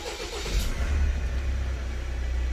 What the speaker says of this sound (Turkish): Şöyle bir aracımızı çalıştıralım.